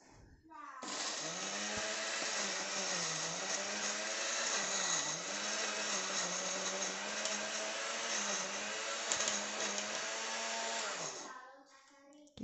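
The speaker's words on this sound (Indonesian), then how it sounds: "Ini sekarang kita lanjut blender dulu sampai halus" An electric blender whirs loudly and steadily for about ten seconds, grinding homemade shrimp paste, its motor pitch dipping slightly as it grinds, then cuts off.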